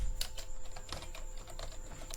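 Quick bursts of keystrokes on a computer keyboard while entering a character value into a C++ program, light clicky taps in short irregular runs over a faint steady hum.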